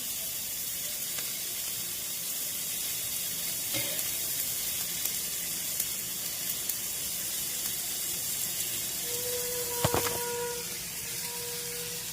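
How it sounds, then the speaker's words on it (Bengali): Mustard seeds tempering in hot oil give a continuous, fairly loud close sizzle and hiss, with a couple of brief clinks near the end and no talking. "সর্ষেটা ফোড়ন দিলাম।"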